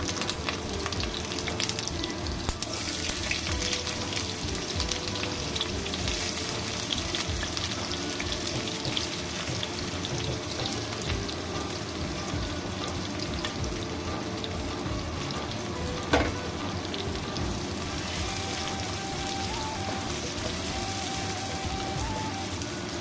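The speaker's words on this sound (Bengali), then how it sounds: "একটু পেঁয়াজটা ভেজে নিই" Onion sizzles in hot oil in a wok, a dense, steady crackling hiss that keeps going with no talk over it.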